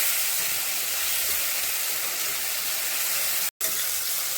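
Mushrooms and small cut potato pieces fry in paneer-frying oil with a pinch of turmeric, giving a steady, even hiss that runs throughout with one brief dropout near the end.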